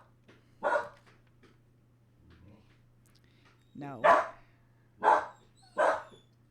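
A dog barks four times at spaced intervals nearby, one bark rising into a yelp, over a steady low electrical hum, with a short word spoken between barks.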